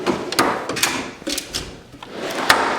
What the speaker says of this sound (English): It's my electric drawer.